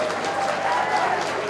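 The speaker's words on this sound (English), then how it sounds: "I really want each one of you to give a big round of applause" Audience at the Miss Tibet 2011 pageant, second night, breaking into a big round of applause: dense, steady clapping from a crowd, sustained throughout without a break.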